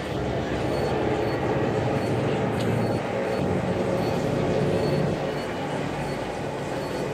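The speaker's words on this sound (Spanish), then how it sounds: "Si se escucha un sonido de fondo es un helicóptero que está pasando" A helicopter passes overhead in the background, heard as a steady, broad, airy rumble that fills the whole stretch at an even level with no break.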